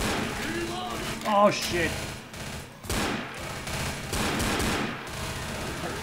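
Rapid bursts of automatic gunfire in the zombie shooter game Left 4 Dead, clattering in uneven volleys throughout, with a player swearing over the shooting.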